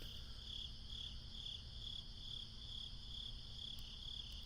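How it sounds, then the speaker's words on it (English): Crickets chirp at night in a steady, evenly pulsed trill, soft and continuous against a quiet background hum with no voices. "You can hear crickets."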